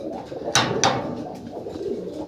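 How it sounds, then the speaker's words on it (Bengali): Black exhibition pigeons coo nearby in low, soft murmurs, with two sharp rustling bursts like wing flaps early on. "এখানে তিন তিন পিস সিঙ্গেল সিঙ্গেল কবুতর আছে"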